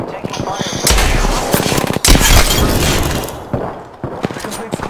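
Loud bursts of automatic gunfire from the Apex Legends battle royale, rapid rattling volleys in several bursts with short gaps between them, close and dense, with a player's voice talking over the shooting.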